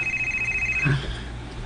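A cellphone rings indoors with a steady electronic tone for nearly a second, then stops, followed by a brief low bump and quiet room tone.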